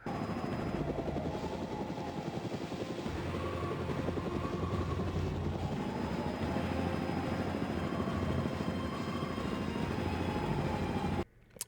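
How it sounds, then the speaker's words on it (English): Helicopter in the Shenmue video game lifting off and flying away from a rooftop, a loud continuous rotor chop and engine whine holding steady for the whole stretch before cutting off abruptly. "Lan Di gets on the helicopter and flies away"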